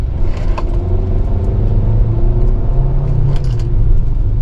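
A 2025 Hyundai Kona N-Line S AWD engine rumbles steadily from inside the cabin during quick paddle downshifts to first gear, a low, continuous drone with slight rises in pitch.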